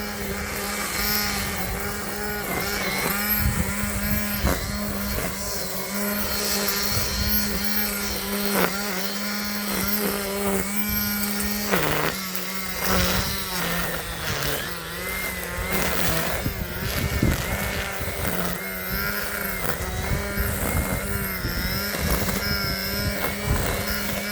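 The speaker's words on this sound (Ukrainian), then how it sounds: "Так, завели ми свою кусарку." A MailWalking cordless battery-powered grass trimmer runs steadily for the whole stretch. Its whining motor hum is continuous and fairly loud, with a brief dip in pitch partway through.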